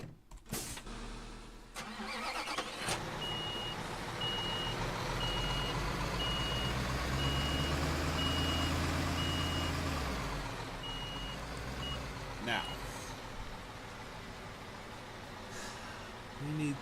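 A concrete truck in Construction Simulator 2015 backs up with a steady series of evenly spaced reversing beeps over a low idling engine rumble, with a short engine start and a few clunks near the beginning.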